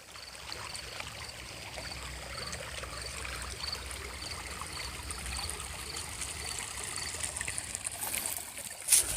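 Acequia irrigation water flowing onto a garden property through a small tunnel, a soft continuous trickling babble nearby with no talk.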